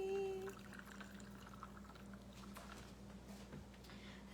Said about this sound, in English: I'm gonna pour my coffee